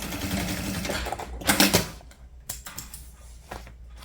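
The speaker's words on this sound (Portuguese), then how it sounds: "vamos passar uma costura de meio pé" A sewing machine stitches a half-foot seam on a cube-shaped toiletry bag panel, short bursts of rapid mechanical stitching with brief pauses between, close by and with no talk.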